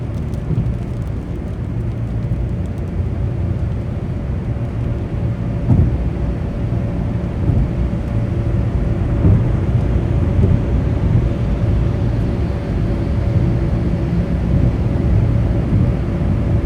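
A thunderstorm with rain heard from inside a moving car: a steady low roar of road and engine noise blended with dense rain hiss, continuous and unbroken throughout, with no talking.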